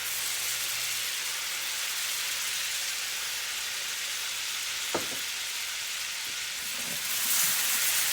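Onions cooking in melted butter in a pan give a steady, close, even sizzle throughout, with a single faint clink midway and no talking.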